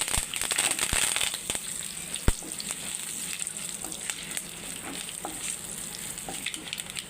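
Dried red chillies and curry leaves crackle and sizzle steadily in hot oil in a pan for a Telugu gongura chutney tempering, with close, sharp pops and spits scattered over a continuous frying hiss, no talking.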